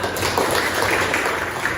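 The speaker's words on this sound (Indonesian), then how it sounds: "beri tepuk tangan untuk semuanya" A class of students applauds together, producing a continuous wash of moderately loud clapping with no break for the whole moment.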